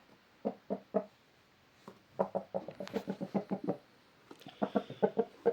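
A rooster for sale clucks in close, rhythmic bursts, a short run, a pause, then longer rapid series of sharp notes.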